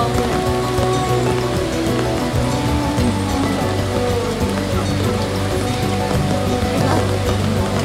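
Rain pours steadily in a rural Batangas province setting, a dense continuous hiss of drops drumming on surfaces, loud and unbroken throughout.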